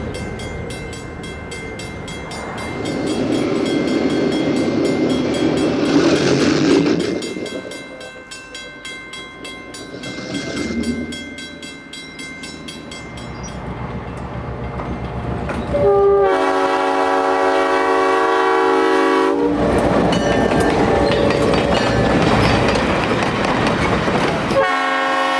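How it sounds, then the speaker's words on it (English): Two former Southern Pacific FP7 diesel locomotives lead an Amtrak San Joaquin passenger train at the Stockton depot, with a loud, sustained chord horn blast breaking over rumbling engines and rolling wheels, near and strong. "Two former SP FP7s arrive and depart on the point of train 711."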